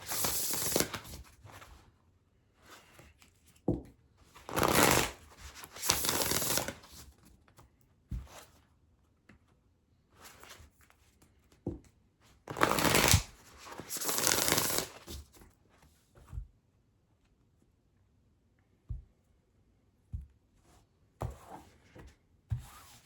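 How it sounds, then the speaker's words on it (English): Oracle cards from an Earth and Bone Oracle deck are shuffled and drawn, giving bursts of riffling card noise that alternate with softer handling and short taps and pauses, heard close up with no voice. "I'm going to pull an oracle card from the Earth and Bone Oracle"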